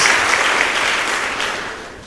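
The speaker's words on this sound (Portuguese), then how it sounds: "Dê uma salva de palmas a Jesus." A church congregation claps together in a brief, dense burst of applause that tapers off slightly toward the end.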